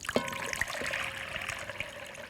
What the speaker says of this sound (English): We'll just pour it in.